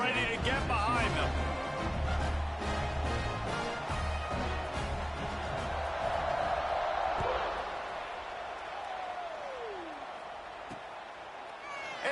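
A high school football stadium crowd at a St. Augustine Golden Eagles game makes a broad, steady roar at the kickoff, with a whoop rising in and out of the noise and a voice talking over it.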